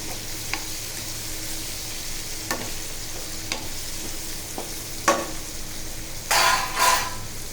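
A paneer makhani mixture with turmeric and coriander-cumin powder sizzles steadily in a pan while a spoon stirs, scraping the metal with occasional clinks and a louder burst of stirring near the end.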